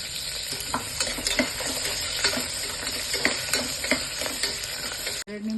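Onion, garlic and dried and green chillies sizzle steadily in hot oil in a pan, with stirring clinks and scrapes throughout, close and continuous, ending with a brief cut.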